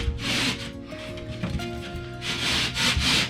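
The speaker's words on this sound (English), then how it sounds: "I'm gonna get my rasp here and take some off of this and off of this surface edge" Rasp shaving a drywall panel's surface edge, coarse rhythmic scraping strokes, close and steady, pausing briefly midway before quicker rubbing passes resume.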